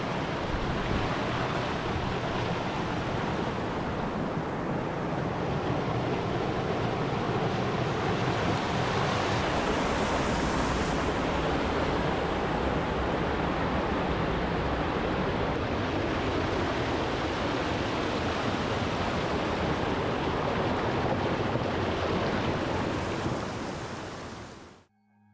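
Steady broadband rush of creek water flowing through a dark forested valley below a waterfall on Archer Mountain, Washington, continuous and fairly loud throughout with no voices, fading out only at the very end.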